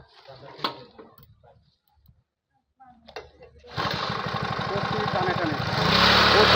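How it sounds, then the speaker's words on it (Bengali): A 120 cc mini power tiller engine is pull-started and catches, settling into a loud steady rattling run that builds slightly toward the end, after brief tugging sounds and a short pause. "টানে টানে স্টার্ট করছে।"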